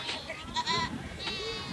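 Goats at a nomad camp bleating in a few short, wavering calls close by, with other voices and camp noise around them.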